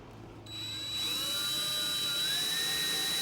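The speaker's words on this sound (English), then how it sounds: "But first, I need to drill the holes." A power drill whirs into action, its high whine climbing steadily in pitch as it bites into a steel door, loud and close.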